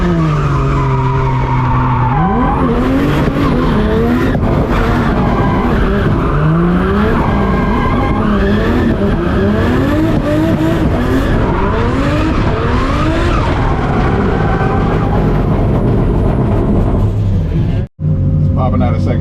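A rotary-powered Nissan S14 with anti-lag roars close and loud, revving up and down in rising and falling sweeps with tire squeal mixed in, before a brief cut near the end.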